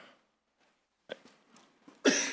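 A few soft, scattered noises lead up to one sharp, loud cough close by at the end, during a city council meeting.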